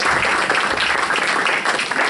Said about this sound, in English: let's do a round of applause for her